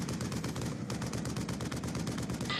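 Rapid automatic gunfire from Black Ops II rattles in fast, close, continuous bursts with barely a pause, loud and alone without talk.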